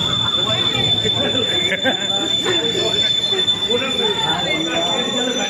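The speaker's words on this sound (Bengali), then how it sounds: "এই দেখো ট্রেন এই ট্রেনে করে আমরা যাব এখন হাওড়া" A train rumbles at a railway station on a route toward Howrah, producing a continuous loud rolling drone with a faint high whine, while people's voices mix in the background.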